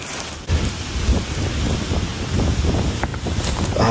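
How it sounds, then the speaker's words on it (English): Strong, cold outdoor wind buffets the microphone in a steady rough roar with gusty surges, heard alone. "Oh my God, this wind."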